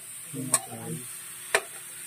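Ilocano-style dinuguan stirred in a frying pan, with a soft sizzle under two sharp scrapes or clacks of the utensil against the pan, close and fairly quiet.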